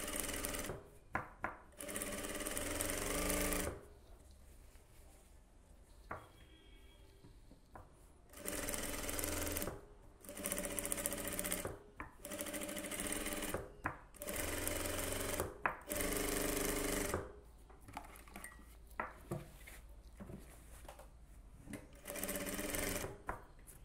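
A sewing machine runs in repeated loud bursts of stitching, stopping and starting several times, with quiet handling in the pauses, as a design drawn on a silk cotton blouse is sewn with small, fine stitches.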